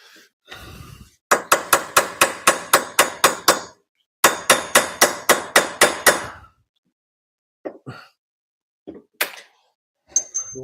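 Sharp metal strikes of a hammer on a chisel during a Mazda Miata rollbar installation, two fast runs of about eight evenly spaced blows each, then a few scattered taps, close and loud.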